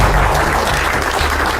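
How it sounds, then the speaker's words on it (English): Loud, dense applause from a live magic show audience greeting a volunteer coming up on stage, a steady wash of many hands clapping throughout with no talk. "Give him a big round of applause, please"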